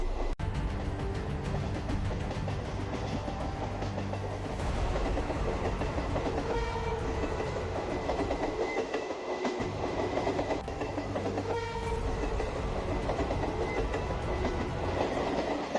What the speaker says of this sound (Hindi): अब ट्रेन एक लंबी अंधेरी सुरंग के ठीक बीच से गुजर रही थी।